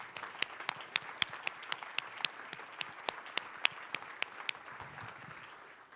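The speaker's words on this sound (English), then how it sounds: "I just want to give a good round of applause for their effort in order to put this on." Sparse, fairly quiet clapping in a large room at the closing plenary of a public consultation. A handful of distinct hand claps ring out at an irregular pace over a soft background murmur.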